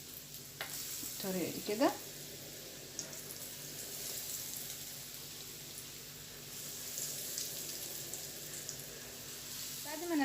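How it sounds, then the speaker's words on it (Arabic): Potato croquette fingers stuffed with egg are lowered into hot oil and fry with a steady, soft sizzle and bubbling, with a few splashy stirs early on. Someone talks briefly. "شوف الزيت سخن. بعد كده بسم الله الرحمن الرحيم هننزل باصابع البطاطس بالشكل ده"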